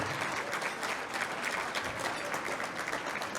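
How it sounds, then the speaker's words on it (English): An audience at an evening roast event gives a steady round of applause for elected officials, with dense clapping at an even level throughout. "let's give them a round of applause"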